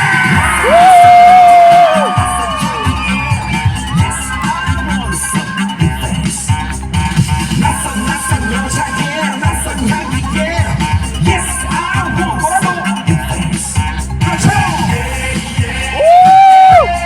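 A large concert crowd in Jeju, Korea, during a performance, screams and cheers continuously under loud music, with high whooping peaks at the start and end.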